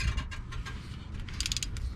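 A wrench snugs the transmission drain plug with its washer on a 2010 Toyota Prius, giving close mechanical clicks and ratcheting ticks over a low steady rumble.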